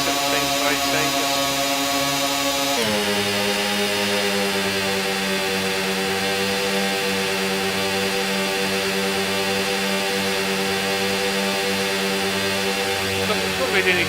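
Vehicle engine in the Stormworks video game running at lower revs: a loud, continuous mechanical drone with steady harmonic tones that shift down in pitch early on, then hold an even, sustained hum throughout.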